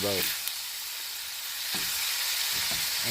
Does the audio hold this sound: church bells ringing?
no